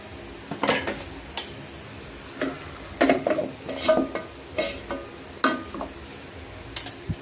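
Raw pork going into a cooking pot over a lit stove, with a few soft thuds and clinks followed by light sizzling and scattered metal scraping, close by and with no talking.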